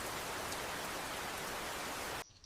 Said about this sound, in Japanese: その時、突然激しい雨が降り始めました。